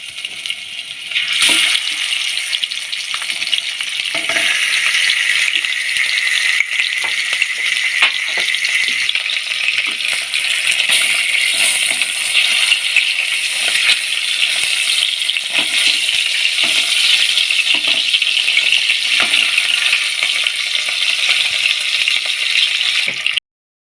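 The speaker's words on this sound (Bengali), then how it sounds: "এবার আমি তেলের মধ্যে দিয়ে দেবো মাছগুলোকে আর এগুলোকে ভেজে নেব" Pieces of katla fish frying in hot oil in a wok for a Bengali doi katla curry: a steady, loud, dense sizzle that carries on unbroken for over twenty seconds, with a few small spits and crackles.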